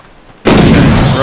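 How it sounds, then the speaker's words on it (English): A fire eruption blast from the Dr. Fate mod in the video game Blade and Sorcery bursts in abruptly after a near-silent moment, then roars on loud and sustained to the end. "Erupted fire."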